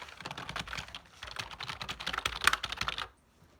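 Typing on a new USB keyboard: a quick, dense run of close, crisp key clicks and clacks for about three seconds, then stopping abruptly into near silence.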